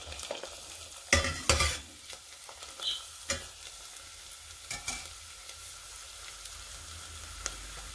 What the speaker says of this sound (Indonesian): Kak digoreng kerupuknya kayak ngene iki.